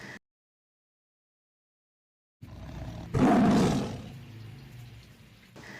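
A deep tiger roar swells and fades after a brief silence, loud and close, followed by low rumbling ambience.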